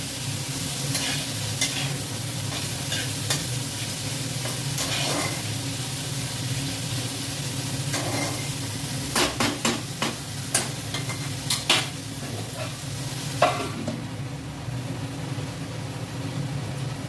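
Spice masala with tomato is sautéed in a pan, a steady sizzle and fry with repeated scraping strokes of a spoon against the pan, clustered near the middle and end.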